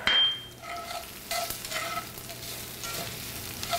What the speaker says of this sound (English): it's really important at this step that you let the sugar brown and caramelize, but make sure not to burn it